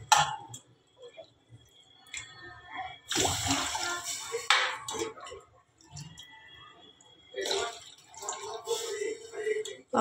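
Water poured into a cooking pot where almonds and other ingredients have been added, arriving in two broad splashing bursts with a voice talking over and between them.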